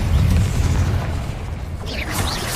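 An Incendio fire spell is cast in Hogwarts Legacy, a loud, heavy whooshing boom with a crackling burst that rumbles at the start, fades, then flares again with bright sparkling tones near the end.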